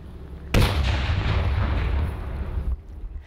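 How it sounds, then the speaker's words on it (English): A powerful explosion set off during a police cadet explosive demonstration on Indiana University's campus, one sharp loud blast followed by a long rumbling roar that cuts off abruptly, heard from a distance with no talk. "Booms powerful enough to break windows rattled Indiana University's campus this week"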